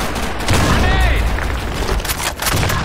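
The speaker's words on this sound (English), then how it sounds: "Fire in the hole! Grenade!" A grenade blast in Counter-Strike on the Office map amid ongoing gunfire, with loud booming bursts and rattling shots blending into a dense, continuous wash of combat noise.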